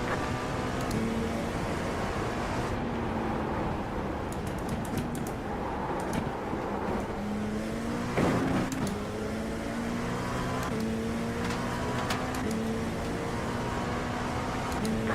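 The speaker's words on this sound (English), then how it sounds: "Faster car coming up quick." Race car engines roar continuously in the iRacing sim at the Imola circuit during an IMSA race, with rising and falling gear-shift tones as cars accelerate and brake, loud and steady throughout.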